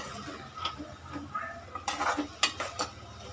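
Spices being roasted and stirred in a pan for Afghani mutton, with a few scattered metallic scrapes and clinks of a spoon against cookware over a quiet kitchen background.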